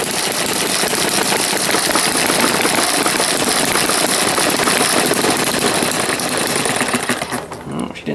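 Small camp-fuel engine running steadily at close range, a dense rapid mechanical chatter that holds a constant pitch for most of the clip before easing off near the end as it is throttled down.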